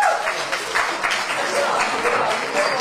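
A crowd at a Polish pre-graduation ball applauds steadily for a few seconds, a dense patter of many hands clapping at close range.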